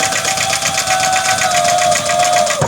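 A sewing machine chain-stitching a run of boxy fabric pouches, running continuously at a fast, even rhythm with a buzzy mechanical whir and a steady tonal hum, close and loud, with no talking.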